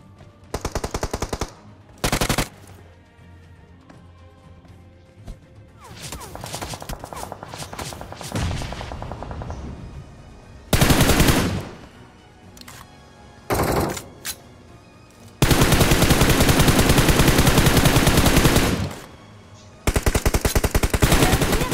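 Gunfire from behind in a battle royale video game: repeated bursts of loud automatic rifle fire, some short and clipped, one sustained volley lasting several seconds, separated by brief lulls.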